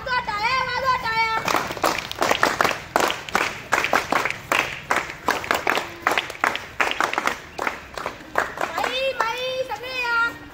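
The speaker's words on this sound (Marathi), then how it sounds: "वाजवा टाळ्या, वाजवा टाळ्या" Children clapping at a school Constitution Day play, sharp claps in a quick patter through the middle, with children's voices calling out at the start and again near the end.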